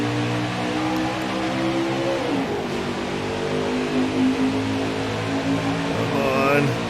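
Race car engines in the NASCAR Heat 4 video game rev and accelerate at a restart, a steady dense roar of many engines with rising tones under continuous talk.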